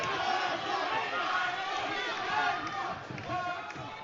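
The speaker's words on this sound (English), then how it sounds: "his fans again chant his name" A crowd at a 170 lb main-event MMA bout between Mike DeLaVega and Josh Streacker chants a fighter's name, a loud, sustained, rhythmic roar filling the arena.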